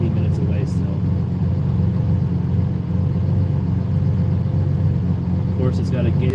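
Lamborghini Countach with a gated five-speed manual transmission being driven, a steady low engine rumble heard from inside the car throughout, with a person talking over it.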